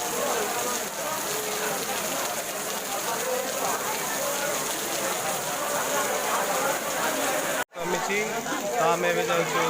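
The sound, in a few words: heavy rain falling at a temple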